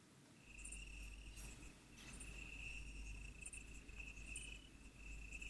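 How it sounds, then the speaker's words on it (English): Steady, continuous cricket chirping rings out through the whole stretch, a high insect trill holding constant with no voices over it. "I'm loving the crickets."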